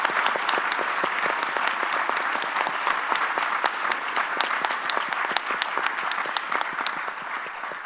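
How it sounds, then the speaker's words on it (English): Steady applause from a conference audience fills the room, dense clapping at an even level throughout with no speech over it. "So let's just give a collective round of applause here."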